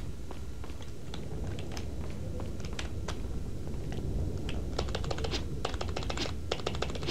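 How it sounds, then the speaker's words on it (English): Rapid typing on a computer keyboard during a Resident Evil 4 playthrough: dense, close clicks and clattering key strikes that grow busier toward the end, with a steady background hiss. "You're slack slamming on the keys there"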